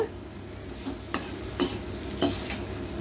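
Raw banana poriyal being stirred and fried in a pan, a steady sizzle with several sharp scraping strokes of a spatula against the pan at irregular intervals, close and clear with no voices.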